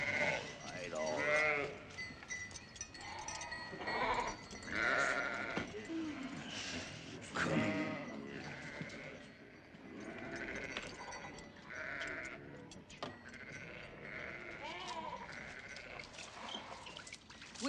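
Sheep and goats bleating around a desert well, several wavering calls repeating throughout over a dramatized scene, with voices speaking between and over the animal cries.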